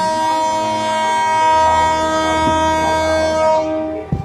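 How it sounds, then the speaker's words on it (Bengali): Long, loud horn blast from the Sonar Bangla Express at Chittagong railway station, a steady multi-tone chord held for about four seconds before cutting off abruptly. "ড্রাইভার সাহেব তো হরেন দিয়ে দিল"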